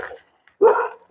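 A dog gives a few short barks, one brief yelp, a pause, then a louder, fuller bark, close by, with another starting at the very end.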